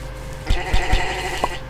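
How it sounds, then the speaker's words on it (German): Sheep bleating in the Minetest-based game MineClone2: three short game bleats close together, then a fourth a moment later, over steady low background hum, with no talk. "Laufen gerade Schafe lang, rein zufällig."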